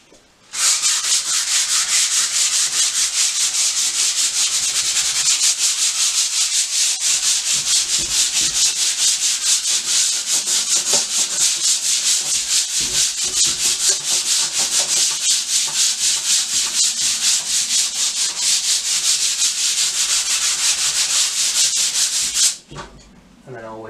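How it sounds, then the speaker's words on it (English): Sandpaper lightly rubbing over a flat painted wall before an emulsion coat, a steady close scratchy hiss running unbroken for about twenty seconds and then stopping abruptly. "if it's flat, you can give it a light sand"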